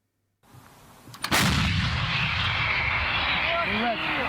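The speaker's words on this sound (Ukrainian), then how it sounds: "Так артилеристи проходять злагодження обслуги гаубиць М777." An M777 howitzer fires one loud, sharp boom nearby during crew training, followed by a long rolling rumble; voices are heard faintly toward the end.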